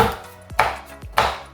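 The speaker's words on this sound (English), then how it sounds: "I'm gonna use the cover or wrapper of it to chop it with a knife" A knife chops through a cacao chocolate bar still inside its wrapper, giving three sharp, close cuts about half a second apart with a crisp crunch, heard alone.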